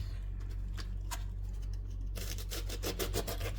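A serrated knife saws through a quarter head of cabbage for a bulgur salad, first soft scattered rasps, then a denser run of quick crunchy strokes, close and fairly quiet with no talk.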